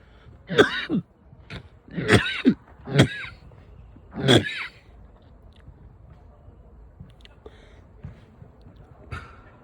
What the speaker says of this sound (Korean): 이 겨울 감기 기침이 나오네요